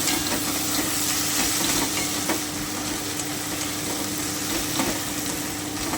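Kachki fish chorchori frying in a pan while being stirred: a steady, close sizzle and hiss runs throughout, with faint scraping stir taps scattered through it.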